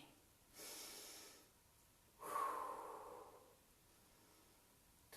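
Heavy breathing during a workout exercise: two strong, close breaths, each lasting about a second, separated by quiet, with no talking.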